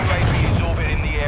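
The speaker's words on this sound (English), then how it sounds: "Friendly cruise missile deployed." A cruise missile explosion in Call of Duty: Modern Warfare II lands as a loud, rumbling boom that rolls on for over a second, with a deep low-end surge and crackling debris.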